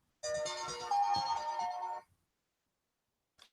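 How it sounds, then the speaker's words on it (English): A mobile phone plays its ringtone for an incoming call, a bright melodic burst of about two seconds that then stops. It is fairly faint, with no voices. "I'm getting a phone call."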